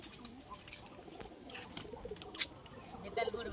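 Pigeons coo softly in short bursts near a home pigeon loft, faint and intermittent against a quiet background with a few brief chirps.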